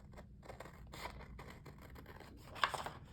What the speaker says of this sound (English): Going to quickly cut around this.